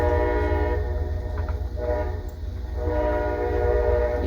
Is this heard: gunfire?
no